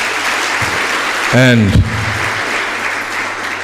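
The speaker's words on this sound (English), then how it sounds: "Clap if you're clapping." Applause from an audience at a university career fair, a steady crowd clapping heard throughout under a single spoken word and brief vocal sounds in the middle.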